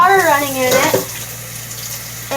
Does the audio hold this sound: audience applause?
no